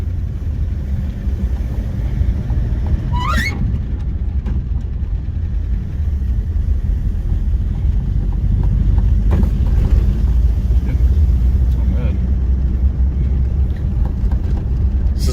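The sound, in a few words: 1949 Packard engine idling with slight lifter noise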